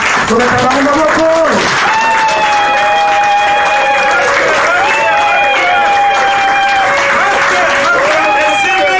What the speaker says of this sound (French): Sous vos applaudissements, sur le cabaret de Moko